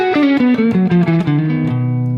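Electric guitar played through an amp with distortion, a short descending run of loud, gritty sustained notes close up and alone.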